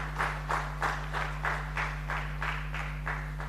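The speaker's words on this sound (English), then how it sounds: "Ladies and gentlemen, a huge round of applause for my panelists here." Audience applause for panelists at a hybrid business event, light and rhythmic with evenly spaced claps, fairly soft over a steady background hum.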